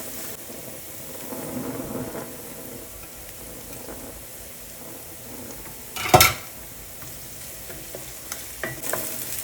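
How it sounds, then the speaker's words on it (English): Vegetables for a lemon-cream bucatini with summer squash sizzle steadily in a pan, with soft stirring throughout, a sharp utensil clank near the middle and a few lighter pan taps toward the end. "Saute these until they get nice and translucent."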